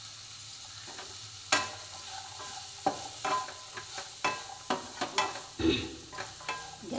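Tomatoes stir into sprouted chickpeas in a pan with the flame off, giving a soft background sizzle broken by a series of scraping, clattering stirs, close and fairly quiet.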